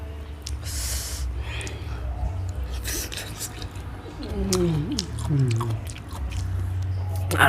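Someone eats a mango with wet, squishy chewing and biting at close range, over a low background hum, with a few nasal and vocal sounds mixed in.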